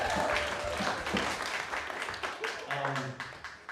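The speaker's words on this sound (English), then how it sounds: "Give them a round of applause." Faint applause from a small audience at a talent show greets a newly founded kazoo ensemble, soft scattered clapping under light talk.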